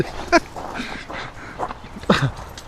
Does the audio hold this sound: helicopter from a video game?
no